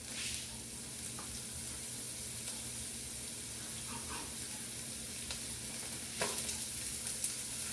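Asparagus sautés in a pan with a continuous hissing sizzle, joined by a few faint scrapes and clinks from a utensil; steady and moderately close, with no talking.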